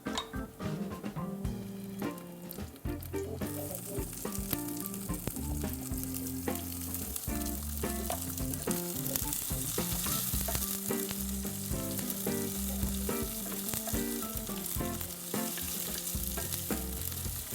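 Garlic and onion sauté in a pan for a seafood sinigang, a dense continuous sizzle that swells after the first few seconds and stays loud and close, with faint stirring clinks and no talk.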